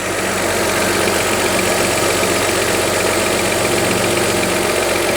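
Audi A4 Cabrio 2.4 V6 engine idling with new spark plugs fitted, a loud, steady, even hum with no changes in pace, heard up close and alone.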